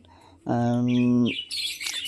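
Pet budgerigars give quick high chirps and twitters, preceded by a sustained, steady, voice-like tone at moderate volume.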